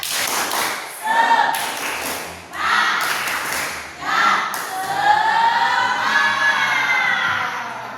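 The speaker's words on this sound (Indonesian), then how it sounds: "Tepuk semangat." A group of children in a classroom claps a rhythmic cheer pattern in short bursts, with shouts and voices mixed between the claps, fairly loud and close.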